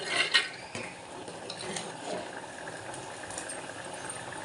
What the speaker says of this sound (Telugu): మటన్ మసాలా కొంచెం చారు కూడా మరిగిపోయినాయి